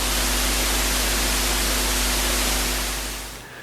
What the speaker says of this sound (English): It's also called white noise.